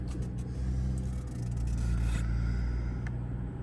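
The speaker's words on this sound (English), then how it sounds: "So let's start the vehicle up." BMW M440i xDrive engine cranking and firing up, a steady low rumble settling into idle with brief scraping clicks near the start, heard close and fairly quiet.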